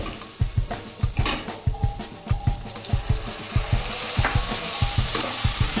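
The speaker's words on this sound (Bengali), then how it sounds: "জলটা দিয়ে ভালো করে মিশিয়ে আমি মশলাটা ভালো করে কষিয়ে নেব।" Spoon stirring and scraping tomato spice masala in a pan, frying with a steady sizzle and rhythmic clinks of metal against the pan, close and fairly loud with no talk.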